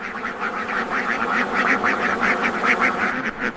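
A flock of egg-laying ducks on a farm of over 200 birds in Tipton County, Indiana, quacking in a steady, overlapping chorus, loud and continuous throughout.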